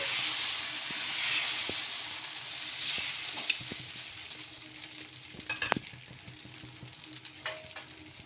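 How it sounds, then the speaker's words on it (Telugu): Tomato dosa batter spread thin on a hot pan, hissing and sizzling steadily throughout, with a few soft clicks and scrapes of the ladle partway through. "ఇప్పుడు దోశ అనేది వేసేసుకోవడమే. ఇలా ఈ విధంగా స్ప్రెడ్ చేసేసుకోవాలి"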